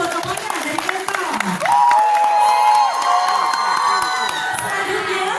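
An audience at a university campus talk show claps and cheers for a student, a loud sustained mix of applause, whoops and excited shouting from a crowded room.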